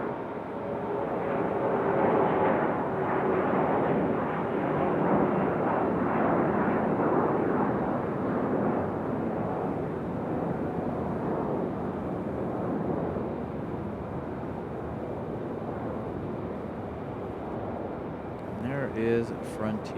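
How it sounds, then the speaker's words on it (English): A CRJ regional jet takes off at Raleigh-Durham International Airport, its broad roaring engine noise loud and sustained for the whole stretch, easing slightly toward the end. "Early rotation from our CRJ here"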